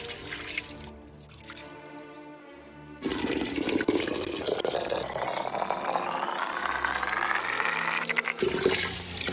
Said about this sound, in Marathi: धुवून असं पाणी काढून घ्यायचं